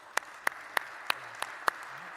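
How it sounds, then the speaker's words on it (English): A handful of scattered, separate handclaps from a panel audience at a privatization discussion in Riyadh, about six sharp claps spread unevenly over a couple of seconds, fairly quiet against a low room hum. "a huge thank you and a round of applause for a fantastic panel"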